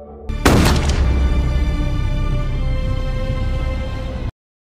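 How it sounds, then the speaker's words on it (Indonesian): A single sharp, loud blast hits early, then rings out in a long, steady tone before cutting off abruptly. "tembakan langsung dilepaskan oleh Dorgu"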